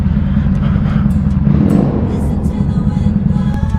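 A Kawasaki Vulcan 800 Classic cruiser motorcycle engine, dusty after sitting, idling with a loud, close, steady low rumble that swells slightly midway and stays continuous throughout.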